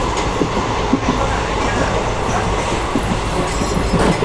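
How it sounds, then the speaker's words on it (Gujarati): A passenger train from Botad to Sihor rolls steadily along the rails, a continuous loud rumble with faint rhythmic clatter of wheels, no voices. "ફાઇનલી અમારી ટ્રેન રવાના થવા માટે નીકળી ગઈ છે સિહોર"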